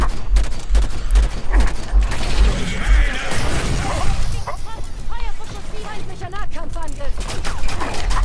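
Rapid gunfire and mechanical weapon clatter from a Halo 5 firefight, sustained and dense throughout, with voices and game sounds mixed in.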